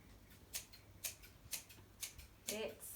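A pair of scissors snips a handful of quiet, evenly spaced cuts, about one every half second, then makes a longer final cut. The sounds are close and soft against a hushed background.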